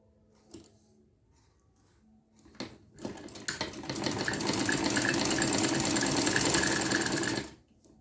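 Sewing machine stitches seams on a striped umbrella-style frock, running in one steady, loud, continuous whir for several seconds after a few short starts, with no talking.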